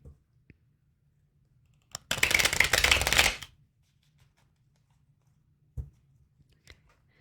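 A single burst of tarot cards riffling and shuffling for about a second and a half, close and crisp, preceded and followed by a few faint taps and clicks in an otherwise quiet room.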